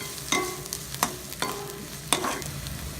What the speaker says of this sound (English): Add a pinch of turmeric powder and saute for 2 to 3 minutes.